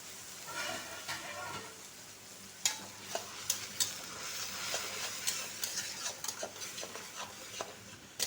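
Two medium onions ground to a paste sizzle in a pan for a posto katla fish curry, with a steady frying hiss and repeated clinks and scrapes of a spoon stirring against the metal throughout.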